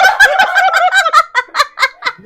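A cat meows loudly indoors in a rapid string of about a dozen harmonic, slightly squawking calls, close and prominent with no talk over them.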